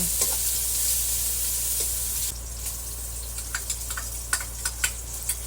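Onion and garlic frying in a pan for fish escabeche: a loud, dense sizzle that suddenly drops to a quieter crackle, followed by a run of scattered close pops and spoon clicks, with no voices.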